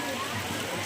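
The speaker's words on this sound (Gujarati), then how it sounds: "5 વાગી જાય ફૂલ વરસાદ ચાલુ છે" Heavy rain pours down during a walking pilgrimage along the road toward Ambaji: a dense, steady, close hiss of rainfall that fills the whole moment without letup.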